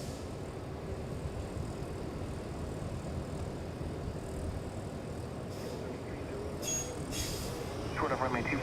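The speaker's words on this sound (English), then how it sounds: "That looks pretty cool, the 777 taking off." A Boeing 777 airliner takes off at Los Angeles International Airport, heard as a steady, distant broadband jet roar that holds evenly throughout, with a few faint chirps near the end.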